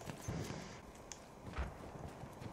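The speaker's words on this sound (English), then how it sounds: "Oh god, there's a horse." Horse hooves clip-clop steadily in the WWI shooter Battlefield 1, a moderately close walking gait over a busy battlefield backdrop with no talk.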